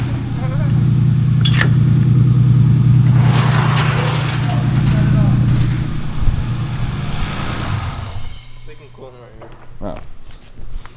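A turbocharged BMW E36 engine idles loudly with a dense, rapid ticking from noisy lifters, then drops off, leaving quieter clatter and movement nearby while people talk.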